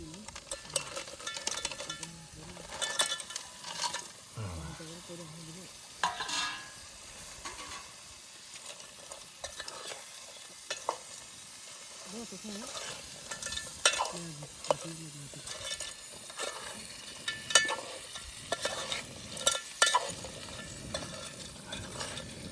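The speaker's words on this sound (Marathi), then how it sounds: "खेकडे घेतो, खेकडे टाकून परतून घेतो." Crabs being stir-fried in a thick gravy, a low steady sizzle broken by repeated scraping and stirring strokes and occasional clanks of the spoon against the pan, fairly close.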